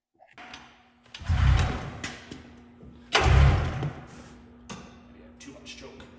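A 1995 Polaris XCR snowmobile engine is pull-started twice. Each pull gives a loud, close whoosh and rumble that fades without the engine catching, with a faint steady hum between attempts.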